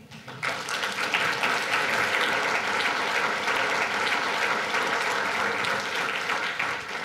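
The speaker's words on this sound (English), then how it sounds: "Give yourselves a round of applause." Audience clapping at a talk, sustained applause that swells in after a brief quiet start and continues evenly for several seconds, moderately loud and somewhat distant.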